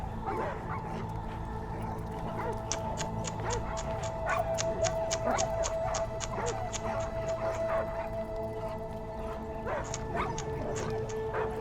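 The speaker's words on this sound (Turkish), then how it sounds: "Bunların hepsi köpekler mi?" Stray dogs in the video game Die Young, a pack yipping and barking in quick repeated bursts with whimpers mixed in, over a steady game soundtrack drone.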